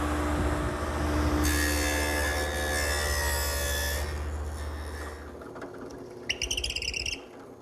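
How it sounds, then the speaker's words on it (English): A saw rips along the top edge of a 2x4 for a greenhouse build, a steady loud cutting whine for about four seconds that then fades, followed by a few short knocks and clatters. "I'm going to rip the top edge of this 2x4"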